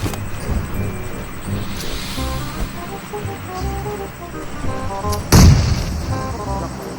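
A bomb goes off in a shooter video game, one sudden loud boom near the end cutting through steady background game noise and distant gunfire.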